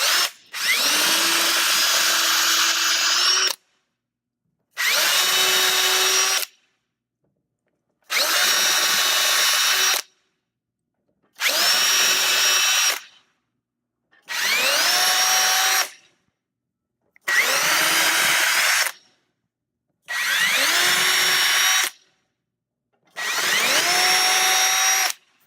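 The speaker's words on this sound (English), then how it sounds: "I want to pre-drill each of these holes" A power drill pre-drills a series of holes in wood, eight loud, close bursts of whirring, each lasting a couple of seconds and separated by short pauses.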